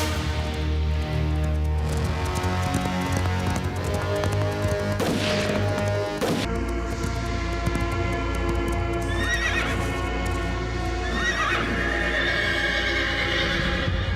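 A horse in a jungle gives a couple of shrill neighs while its hooves clip-clop, all over a steady droning backdrop with no speech.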